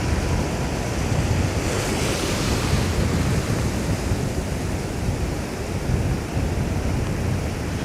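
Fast-incoming tide waves washing steadily over a rocky shore, loud and close with a continuous roar of surf and wind buffeting the microphone, no talk.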